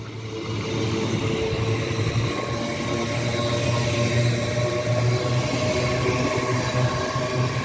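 A train bound for Hull, with a Lander Green Ginge locomotive leading, rumbles at Peterborough station as it stops, a steady low engine and rolling drone that holds on at a moderate distance.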